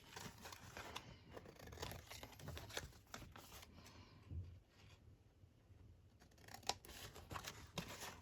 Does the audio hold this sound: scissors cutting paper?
yes